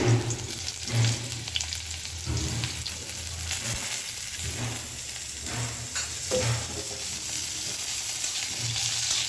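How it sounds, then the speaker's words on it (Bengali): Eggplant pieces frying in oil with mustard seeds in a wok, a steady close sizzle with brief louder crackling bursts throughout. "বেগুনটা আগে একটু হালকা ভাজবে নিই"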